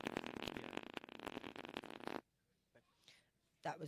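Loud, long, rasping fart lasting about two seconds, close to the mic. It cuts off abruptly, followed by a quieter breathy sound and the start of someone speaking.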